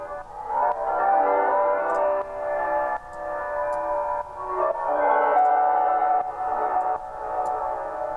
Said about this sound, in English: So let's try just the standard reverb here